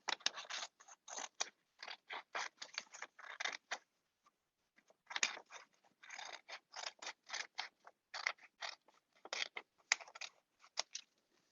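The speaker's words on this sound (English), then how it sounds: "let's go ahead and cut the lips next" Scissors cutting paper shapes at a hands-on family workshop, a close, quiet series of rapid crisp snips in bursts separated by short pauses, with no talk.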